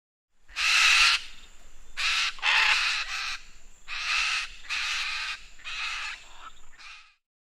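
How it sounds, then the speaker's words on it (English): A macaw gives a series of about seven loud, harsh, raspy squawks in an irregular rhythm, close and clear against silence. "macaw,"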